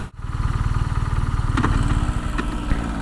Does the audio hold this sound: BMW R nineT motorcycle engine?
yes